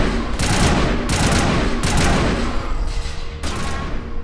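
Heavy gunfire erupts in Mass Effect, a rapid barrage of loud close shots with dense overlapping bursts that thin out briefly before another sharp volley near the end.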